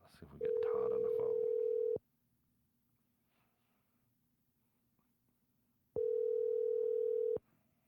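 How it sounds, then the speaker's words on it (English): Telephone ringback tones while a call is being placed, two long steady tones separated by a pause, clear and loud, with a faint low hum in the gap between them. "We are going to call Todd."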